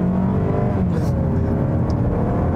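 A 2019 Mazda 3 AWD engine drones loud and steady while brake torquing, with a low rumble filling the cabin as the revs are held and a voice briefly talks over it.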